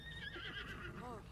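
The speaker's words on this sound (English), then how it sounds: "And this horse absolutely sucks." A horse in Zelda: Tears of the Kingdom gives a short, close whinny with a wavering pitch, lasting about a second over a low game background.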